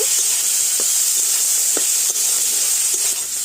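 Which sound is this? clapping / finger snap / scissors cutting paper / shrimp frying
shrimp frying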